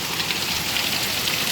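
Heavy rain pours off the roof of a house into a backyard, a dense, steady, loud hiss of water spraying and splashing with no pauses.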